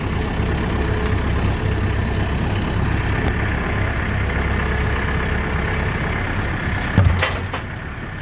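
A 40 horsepower tractor engine labours steadily under a heavy load of pine logs, a constant loud low drone with one brief clunk near the end.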